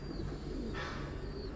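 Titan Thai meat pigeons coo at a pigeon farm, soft low calls within a steady background hum and faint chirps.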